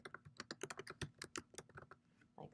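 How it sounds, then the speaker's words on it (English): Quiet, rapid typing on a computer keyboard as an answer is entered, a steady patter of close key clicks with a brief pause near the end. "So this is where they would type in their response"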